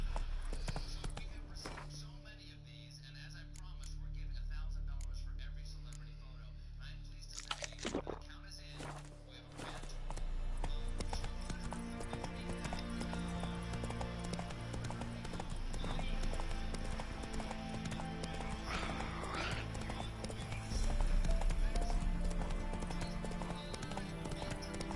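Hooves of a horse in The Witcher 3 clip-clop steadily throughout, a rhythmic galloping patter under faint background game ambience, with occasional soft voice sounds.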